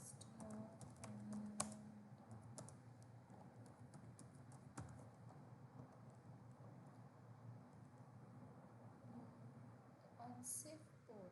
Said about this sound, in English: now let me type fast